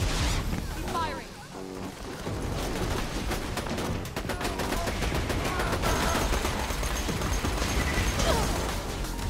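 Dense in-game gunfire and explosions from the shooter Borderlands 2, loud and continuous with rapid bursts layered over game music, while players talk over the action.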